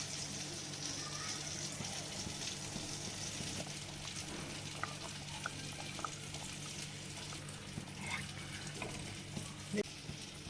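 Fish pieces go into a boiling chili fish curry in a pot, with steady low bubbling and sizzling, faint splashes and small clinks, and quiet talk in the background.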